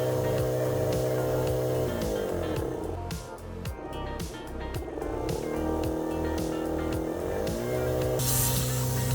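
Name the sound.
air compressor blowing air for laser engraver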